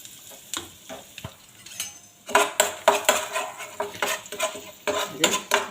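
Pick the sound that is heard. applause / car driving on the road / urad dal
urad dal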